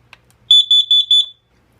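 A carbon monoxide detector sounds its alarm nearby in a loud, shrill electronic chirp pattern, four quick beeps in rapid succession after a faint click, then quiet.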